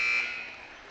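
A game-ending buzzer sounds at the close of the third quarter of a high school basketball game in Topeka, a loud steady electronic tone that holds briefly and then fades into gym reverberation.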